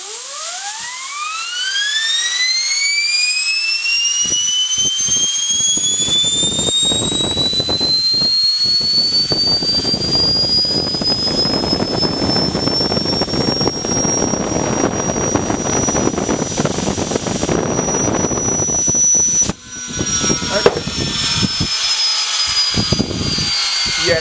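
Small AIM-9 Sidewinder rolleron wheel spun up by compressed air, a loud continuous whine that sweeps steadily upward in pitch and holds high, with hissing air rushing throughout, close and alone.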